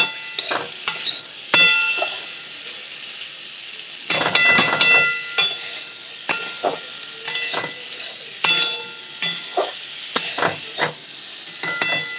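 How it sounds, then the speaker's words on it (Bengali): Potatoes fry in a pan with a bright, continuous sizzle, broken by repeated scraping stirs and occasional metallic clinks of a spatula, loud and close throughout. "ভালো করে আলুটাকে লাল লাল করে ভেজে নিতে হবে"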